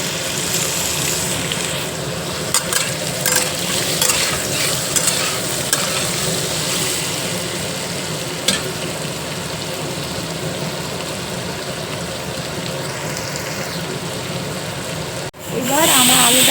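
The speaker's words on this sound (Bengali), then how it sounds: "এই কেটে রাখা পেঁয়াজ আলু একে দিয়ে দিলাম। একটু লাল হওয়া পর্যন্ত একে ভাজবো।" Chopped onion and potato frying in a pan, a loud continuous sizzle with scraping stirs and occasional clatter, close and dense throughout, ending with a brief handling knock.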